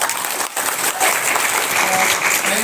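Loud, sustained audience applause filling a town hall seminar hall, dense steady clapping with a brief dip partway through.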